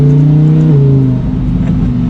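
A 2020 Lamborghini Huracan EVO exhaust in Corsa mode, a loud, close engine tone that dips briefly as the gear or throttle shifts, then settles into a steady, rumbling drone.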